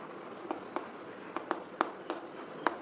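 A sentence is written out by hand in several short, separate scratching strokes, irregularly spaced and close, faint against a quiet room, with no talking.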